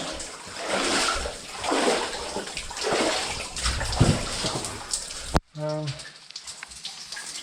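Mine water pours down in a steady, loud splashing rush from a collapsed hopper inside an abandoned lead mine, close by and unbroken before cutting off abruptly into quieter dripping near the end.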